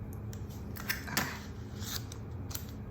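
Scissors snip through a paper sticker in a faith journal craft session, a few short crisp cuts close by against a quiet room background.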